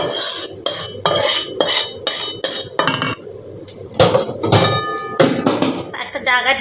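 A metal spatula pressing and scraping fresh dhoka lentil batter flat on a plate while it is still hot, giving repeated close clinks and scrapes of metal on the plate in an uneven rhythm, with a voice talking over it.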